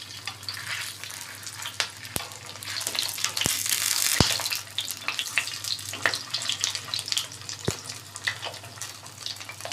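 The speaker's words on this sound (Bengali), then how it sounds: "এখন চুলার আঁচ মাঝারিতে রেখে উল্টে পাল্টে এগুলি ভেজে নিব।" Flattened rice and onion patties shallow-frying in oil over medium heat, a steady close sizzle with bursts of crackle and a few sharp clinks of a utensil as they are turned.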